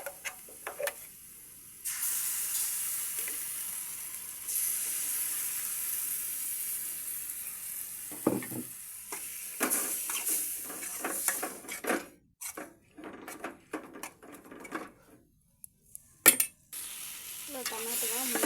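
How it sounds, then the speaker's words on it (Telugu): Sliced bitter gourd fries in a pan for kakarakaya pulusu, a steady close sizzle and hiss broken by scraping stirs, brief pauses and the odd clatter of a utensil. "తర్వాత కాకరకాయని ఇలా కొద్దిగా ఎర్రగా అయ్యేంత వరకు వేయించాలి."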